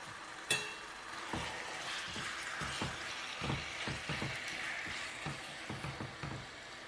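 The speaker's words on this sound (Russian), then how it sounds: "И выкладываем куриную грудинку." Chicken breast fries in a hot pan, a soft sizzle broken by repeated scraping and clacking stir strokes at an uneven rhythm, close and fairly quiet with no talk.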